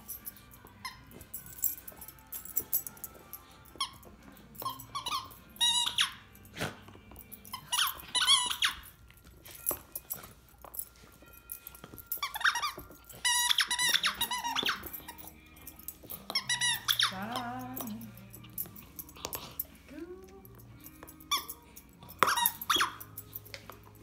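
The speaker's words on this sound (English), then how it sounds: "It squeaks and everything!" A dog plays with a squeaky Christmas toy, squeezing out repeated sharp squeaks in irregular bursts, close and loud, with occasional soft dog whimpers between them.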